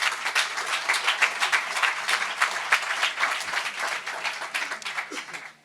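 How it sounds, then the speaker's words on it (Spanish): An audience applauds at an author's evening event in a FNAC store, dense, steady clapping from a crowd that holds for several seconds before cutting off abruptly. "Aplaudís."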